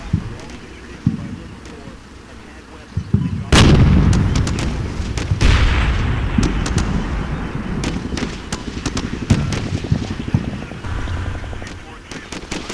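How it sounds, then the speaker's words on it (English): Howitzer artillery fire in the Combat Mission: Shock Force war game, with mobile howitzers firing on enemy machine gun positions: a heavy blast boom followed by repeated sharp reports and rumbling impacts over a continuous battle din, with voices faintly underneath. "I return fire with the mobile howitzers"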